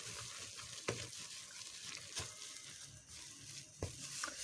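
A thick paste of oil and sodium hydroxide for liquid soap is stirred continuously, giving a quiet wet churning and scraping with a few sharp clacks of the utensil against the container.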